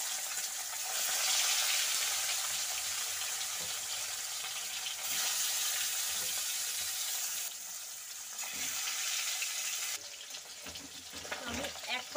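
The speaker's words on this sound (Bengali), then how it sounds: "আমি একে একে মাছগুলো ভেজে নেব।" Pieces of bata fish sizzle and crackle in hot oil in a wok, a steady bright frying hiss with occasional soft pops and spatula scrapes, fairly close and continuous.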